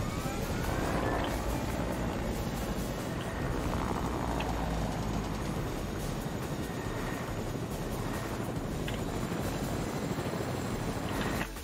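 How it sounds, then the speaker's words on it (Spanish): Helicopter in the video game Fortnite, a steady loud rotor and engine drone with broadband wash that holds constant throughout, no talking over it. "me voy en el helicóptero"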